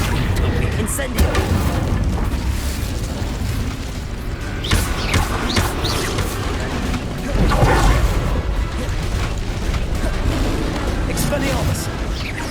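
Incendio fire spells and other combat blasts in Hogwarts Legacy produce repeated booms, crashes and thumps over a busy fight, with voices speaking throughout.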